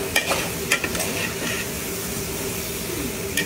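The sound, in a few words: banana heart (puso ng saging) frying in a pan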